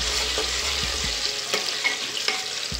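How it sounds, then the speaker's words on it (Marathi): Whole spices and bay leaf sautéing in a pan while tomato is being cooked for basmati pulao, a steady close sizzle and frying hiss with a few soft stirring scrapes. "त्याच्यामध्ये हा खडा मसाला टाकते, तमालपत्र, परतून घेऊ आपण।"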